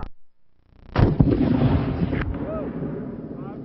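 An antique cannon fires a single loud, booming shot at a competition, followed by a long rumbling decay, with brief background noise before the blast.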